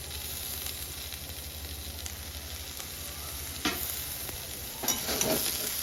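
Loud, continuous sizzle of aubergine frying with salt and turmeric in a Bengali village-style dish, with a steady hiss and a few louder stirring scrapes near the end and no voices.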